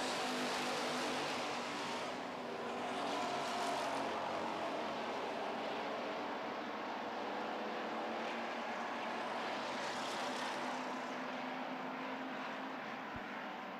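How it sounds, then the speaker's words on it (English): Street stock race cars circle an oval track, a continuous engine roar that swells and fades as the pack passes, steady and somewhat distant with no talk. "What a great race, the top 5 cars in our Howard Johnson Street Stocks."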